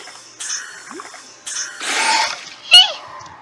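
Underwater bubbles in the Subnautica video game, bursts of bubbling and splashy gurgles across a few seconds, with a sharper chirpy game effect near the end.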